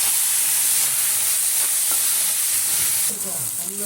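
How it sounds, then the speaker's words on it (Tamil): Tomato frying in a pan for peanut chutney gives a loud, steady hiss and sizzle throughout, with occasional stirring scrapes and a brief softer moment near the end. "ஒரு பெரிய சைஸ் தக்காளி போட்டு நல்லா ஃப்ரை பண்ணணும்"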